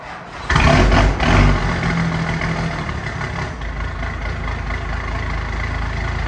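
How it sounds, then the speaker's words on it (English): A 1993 Dodge W350 with a 12-valve Cummins diesel, run with its turbo disconnected, cranks and catches with a loud burst, then settles into a steady, close rumbling idle. "Well, the 12 valve's warming up."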